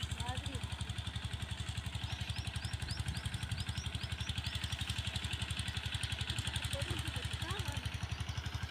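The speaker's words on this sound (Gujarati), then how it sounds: "ખેત ટ્રેક્ટર આંકે છે" A farm tractor works a field nearby with its engine running as a steady, even rumble that stays constant without pauses.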